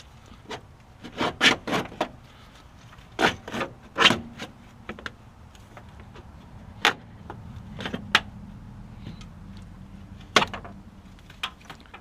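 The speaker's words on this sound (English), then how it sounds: "do your very best to slide this thing out" A Jeep Cherokee power steering pump being worked out of a tight engine bay, giving irregular metallic knocks, scrapes and rubbing bursts with quiet pauses between efforts.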